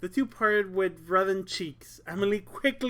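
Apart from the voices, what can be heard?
No distinct noise like a dog, phone or traffic.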